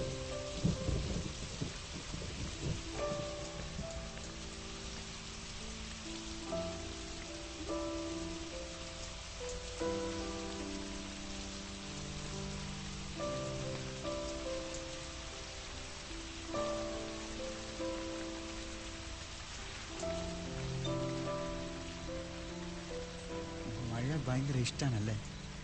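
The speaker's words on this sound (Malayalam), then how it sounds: "മഴ" Steady rain pours down while low thunder rumbles roll through in waves. Music plays along with the storm for the whole stretch.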